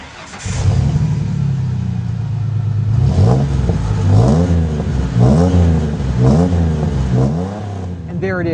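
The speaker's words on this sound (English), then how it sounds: "I love that low, throaty rumble that we get from this Dynomax system." A 1997-2004 Ford F150 pickup with a Dynomax performance exhaust starts and idles with a deep, throaty rumble, then revs repeatedly in rising and falling surges, loud and close.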